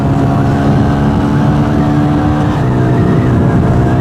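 A Benelli 180S motorcycle engine pulls hard on a road test, its loud, close, continuous drone holding steady through the whole stretch with no talk over it.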